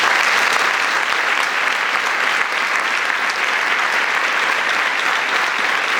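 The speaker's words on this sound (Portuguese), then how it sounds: "uma salva de palmas para ele." A church congregation in Barbacena gives a loud, sustained round of applause during a unity communion service, the clapping dense and even from start to finish with no break.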